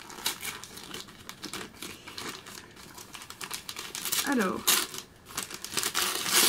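Christmas wrapping paper being torn and crumpled off a manga volume, crinkly rustling bursts near the mic while a person talks over it.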